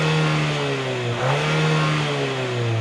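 Chery Tiggo 8 Pro Max with real quad exhausts, engine revved briefly from idle, a close steady hum that rises and dips once in a short throttle blip before settling back to a smooth drone.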